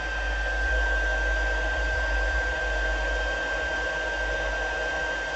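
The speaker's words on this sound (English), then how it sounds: "I'm just going to heat it up with my heat tool." A heat gun blows a steady, loud whoosh with a thin high whine, running continuously while heating embossing powder on a craft piece.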